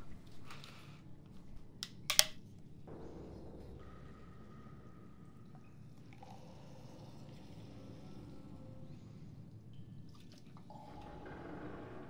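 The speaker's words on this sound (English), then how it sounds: "I'm just like pouring my drink into a cup." A fizzy drink is poured into a cup indoors, giving quiet fizzing and trickling with a couple of sharp clinks early on, all faint and close.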